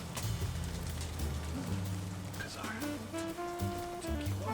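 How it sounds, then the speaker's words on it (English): Rain falls steadily outdoors around a Kamado Joe grill where corned beef and cabbage are smoking, a broad continuous patter at close range, with a low droning hum and a few tonal background sounds mixed in. "And now it's gonna rain right now."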